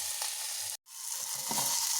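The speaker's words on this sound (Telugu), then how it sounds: "కరివేపాకు, టమోటా, ఇవన్నీ కలిపి బాగా ఫ్రై అయి ఉండాలి." Curry leaves and tomato frying in a pan for rasam, a continuous close, bright sizzle broken by one very brief dropout.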